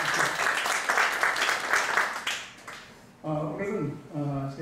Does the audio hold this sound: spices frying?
no